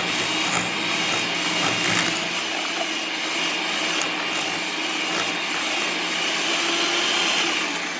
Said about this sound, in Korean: 소금을 넣고 다시 잘 섞이도록